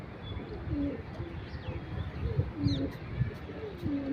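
Several pigeons coo repeatedly in low, throaty rolling calls, close by, with a faint chirp overhead and a light background hiss.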